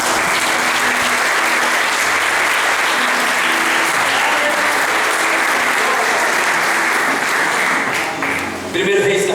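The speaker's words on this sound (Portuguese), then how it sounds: "Dê um aplauso." Loud, sustained applause from a church congregation during a sermon, a dense, even roar of clapping filling the room for several seconds before a voice cuts in near the end.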